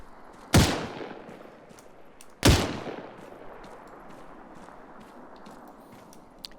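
Two loud, sharp gunshots from a first-person shooter set in ARMA 3, with rounds fired through a rock, spaced about two seconds apart, each with a long echoing decay over a quiet background.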